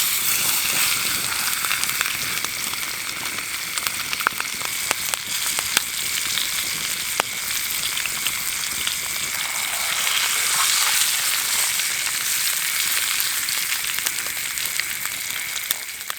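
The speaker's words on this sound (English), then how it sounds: "We'll just melt that down. I'll chuck the fish in." Trout sizzling in melted butter and garlic in a pan at a mountain campsite, a steady, loud frying hiss with scattered crackles and pops throughout, no talking.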